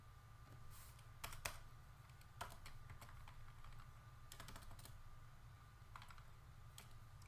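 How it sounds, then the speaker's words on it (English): Someone types on a Mac computer keyboard in short bursts of quick clicks separated by pauses, faint and close, over a low room hum. "If I can type."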